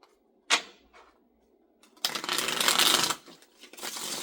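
Tarot cards riffled and shuffled, with a short snap near the start, then a dense papery burst of about a second, and lighter card flutter following, close and fairly quiet with no talk.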